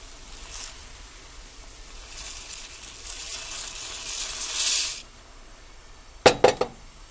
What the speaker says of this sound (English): And I'm going to slowly pour the rice in.